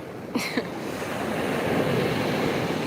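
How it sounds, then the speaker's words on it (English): Ocean waves washing onto a shore make a steady broadband rush that swells gradually louder, with wind noise on the microphone and a couple of brief faint chirps near the start. "I'm just listening to the waves."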